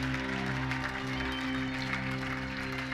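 A church congregation applauds and cheers for the Lord in a dense, continuous wash of clapping, with a sustained organ or music drone underneath.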